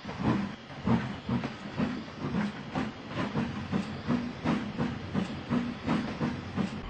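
A steam locomotive chuffing away from a container-train yard, with steady rhythmic puffs of hiss and a regular mechanical beat, fairly loud and alone without talk.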